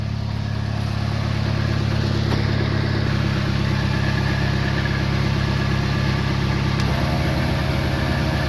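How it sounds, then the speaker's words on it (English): Portable tire inflator pump clamped to a car battery, running steadily with a dense, even motor drone and rattle that holds throughout, close by and loud. "So we're just going to pump up the air in the tire."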